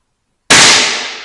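A single sharp crack from a BSA Mercury XL air rifle shot after a moment of silence, loud and close, decaying quickly with a short tail.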